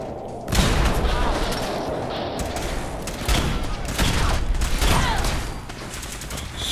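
A gun in the Fallout 4 video game fires in a dense, loud fusillade of rapid booming shots with mechanical clatter, nearly continuous, with a voice briefly talking over it.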